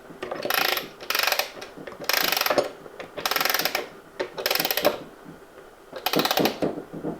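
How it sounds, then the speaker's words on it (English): A Festool OF series router's ratchet is engaged from under a table, producing several quick bursts of rattling mechanical clicks that come in uneven clusters with short quiet gaps between them. "all the OF series of routers have that ratchet action, so I can lean under the table and I can engage that"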